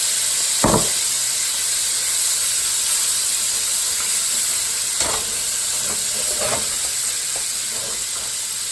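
Shrimp sizzle in hot bacon grease in a skillet, giving a steady, loud, broadband hiss throughout with a few brief, sharper spatters and pops rising above it, and no speech.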